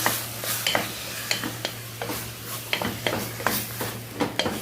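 Spices, garlic, meat and onions fry together in a pan with a continuous sizzle, punctuated by regular scraping stirs of a utensil against the pan, close and fairly quiet, with a steady low hum beneath.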